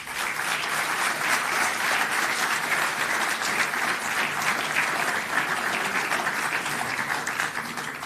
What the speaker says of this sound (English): So ladies and gentlemen, let's give a warm round of applause to Major General Rai Singh Godara.